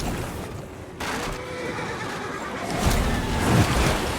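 A horse whinnies in the dark fantasy video game Lords of the Fallen, a loud neigh rising over a rumbling battle background with no talk.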